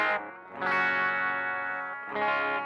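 A Fender Player Plus Meteora electric guitar on its bridge pickup, run through distortion and chorus effects, sounds two sustained, ringing chords with a brief gap between, close and alone.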